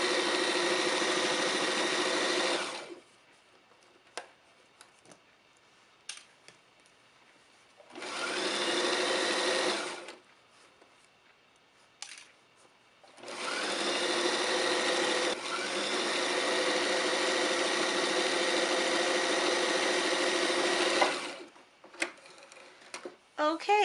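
A sewing machine stitching a pillowcase runs in three loud, steady bursts of motor whir, about three, two and six seconds long, separated by near-silent pauses with faint handling clicks.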